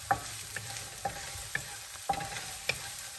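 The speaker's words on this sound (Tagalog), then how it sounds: "Let's saute our onion" Onion sizzles in a pan for a buttered shrimp curry while a utensil stirs it, giving a steady soft frying hiss broken by light scraping taps at a regular rhythm, close and fairly quiet.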